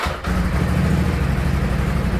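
A damaged turbo Polaris RZR engine cranks and catches after a short moment, then settles into a loud, close, rough, pulsing idle that stays steady.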